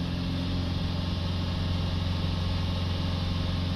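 Diesel engine held at steady raised revs during a particulate filter cleaning, a constant low droning hum with a strong even tone and no breaks, close and alone without talk.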